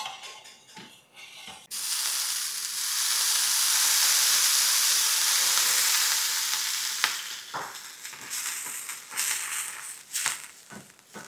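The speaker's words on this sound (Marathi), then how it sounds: "तवा जो आहे तो व्यवस्थित तयार करून घेऊ आणि तेल टाकून" Oil sizzles and hisses loudly on a hot griddle being readied for khand patodi, starting abruptly after a few quiet clicks and holding steady before easing, with some scraping and clatter near the end.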